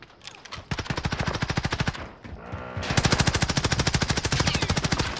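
Akimbo M19 pistols fire in Call of Duty Warzone, two long rapid strings of loud, evenly spaced shots split by a short pause, the second burst louder and denser.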